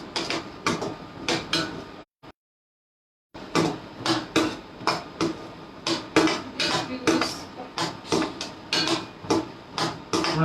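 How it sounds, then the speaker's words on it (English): Tomato and onion gravy is stirred in a metal kadhai, a spoon clanking and scraping in a rapid, uneven rhythm, close and fairly loud, with a brief pause partway through. "So we are going to stir it."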